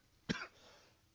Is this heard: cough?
yes